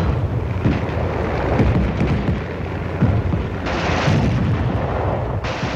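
M14 rifle gunfire in a mock city attack training exercise comes as a dense, rumbling barrage of booming reports and bursts, continuous and heavy, recorded with old film sound.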